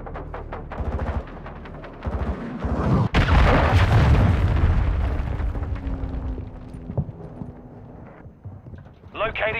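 Cruise missile strikes in a Call of Duty battle, a deep booming blast swelling into a long rumbling roar after sharp gunfire-like cracks, with a voice speaking over the din.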